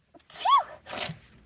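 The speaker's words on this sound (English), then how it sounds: "here's a sneeze" A single close sneeze with a sharp rising-and-falling burst, followed by a breathy exhale; no speech around it.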